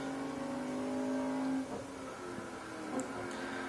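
A Mercedes Vision Gran Turismo concept car in a racing video game, its engine humming and revving at a steady pitch, then easing off and picking up again, with no talk over it.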